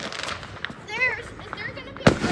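A firework goes off with one sharp, loud bang near the end, after a stretch of voices and whistle-like tones.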